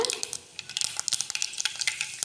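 Mustard seeds and fenugreek frying in hot oil in a pan for a curry leaf garlic thokku: a rapid, close crackle of small popping seeds with a faint sizzle underneath.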